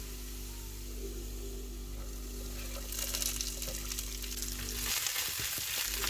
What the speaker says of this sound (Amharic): ድንቻችን ቀላ ብሎ እስኪበስል በመሃል እናገላብጠዋለን።